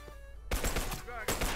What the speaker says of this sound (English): Musty using some burst rifle action. A nice burst rifle through the van.